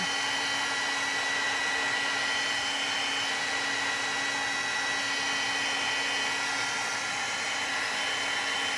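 A dryer blows steadily and loudly to dry a thin craft project, one continuous close airy roar with no pauses or speech.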